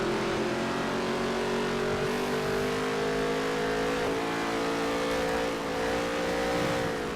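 Race car engines drone through a NASCAR Heat 3 career race at Legend difficulty, a steady, moderately quiet whine with slowly shifting pitch and no pauses.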